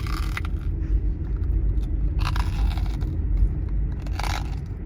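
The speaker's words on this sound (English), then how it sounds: "look how crunchy these marshmallows are" Stale, crunchy marshmallows bitten up close, three bursts of brittle crunching about two seconds apart over a steady low rumble of background noise.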